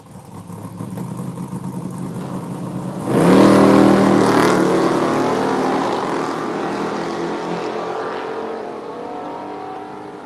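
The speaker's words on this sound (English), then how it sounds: "racing over in the left lane in the Hemi Cuda" A Hemi Cuda Mopar drag race car roars down the quarter-mile lane, its engine surging loudly from a steady rumble into a sharp launch, then holding a powerful, slowly fading drone as it pulls away.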